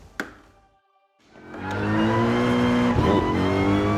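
Race car engine in Gran Turismo Sport at the Nürburgring, a short click then brief quiet before the engine revs up and climbs into a loud, steady high-pitched drone with harmonic whine, alone without talk.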